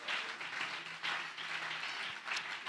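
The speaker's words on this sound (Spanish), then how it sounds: "Dele ese aplauso a nuestro Dios." Congregation applause at a church service, a steady broad wash of many hands clapping in a large room, fairly faint and continuous with slight swells, no talk over it.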